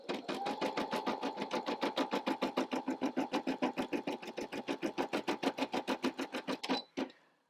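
A Brother LB5000 sewing and embroidery machine stitches a design in a fast, steady rhythmic hum of needle strokes, several per second, then stops abruptly with a final clunk.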